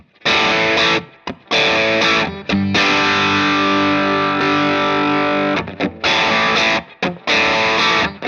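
An electric guitar plays through a Fire Mist amp with no boost pedal, giving gritty, distorted chords in short bursts with brief gaps, then a long held chord in the middle, loud and close.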